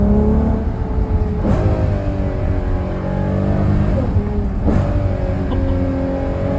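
A 2025 Ferrari Purosangue engine revving under throttle while driving, a loud smooth high-pitched howl that rises through the revs, drops at a gear change and climbs again.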